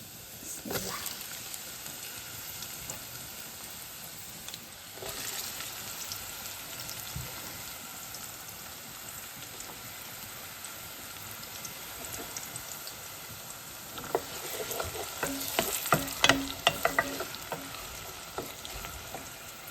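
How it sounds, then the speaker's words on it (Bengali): Onion and garlic sizzle steadily in hot oil throughout, with stirring scrapes and a louder burst of crackling near the end; no one speaks. "এখন আমি পেঁয়াজ আর রসুনটা দিলাম বিকজ তেলটা গরম হয়ে গেছে"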